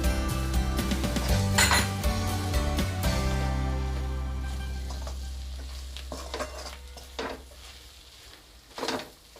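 Garam masala, amchur and cumin powder are stirred into Amritsari chole in a pan, with a spoon scraping and clinking against metal over a soft sizzle, busy at first and then thinning to sparse taps.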